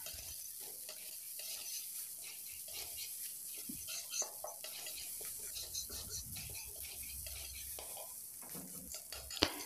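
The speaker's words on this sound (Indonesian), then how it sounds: "lalu kita ratakan kita aduk-aduk kembali sampai merata" Steady sizzling of fried rice with a spatula scraping and stirring in a pan, continuous and close, with a faint clatter near the end.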